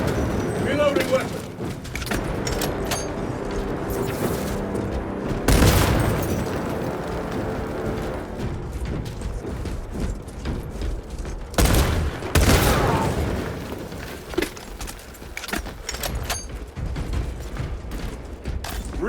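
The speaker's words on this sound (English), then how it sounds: "Reloading weapon." Warhammer 40K Space Marine 2 plays out in a dense, loud battle, with continuous gunfire, booming impacts and mechanical reload clatter throughout. Several heavy blasts stand out near the middle, and a voice is heard over the combat.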